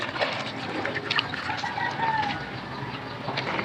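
Santol fruit flesh being squeezed and kneaded by hand in a basin of water, giving soft sloshing and squelching with some faint background bird sounds.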